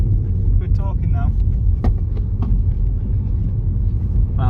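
Seat Ibiza 1.2 TSI, 90 horsepower, with a loud aftermarket exhaust, a deep continuous engine rumble heard close from inside the car, with someone talking over it.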